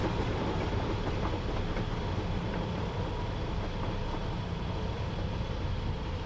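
An LMS Black 5 steam locomotive passes in a Train Sim World game set on the Western Lines of Scotland, a steady mid-distance rumble of rolling wagons with faint clickety-clack running on without pause.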